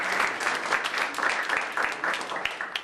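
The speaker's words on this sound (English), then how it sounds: "Come on, give her a round of applause." An audience claps at a live science-themed magic show, a dense, steady round of applause close to the listener with no talk over it.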